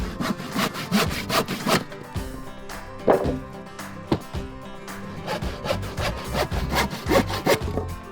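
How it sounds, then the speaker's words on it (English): A handsaw cuts through completely dry wooden boards in a steady run of strokes, with rasping back-and-forth pulls and a few sharp knocks of the wood, heard up close with no talking. "the material and cut it to size with a handsaw"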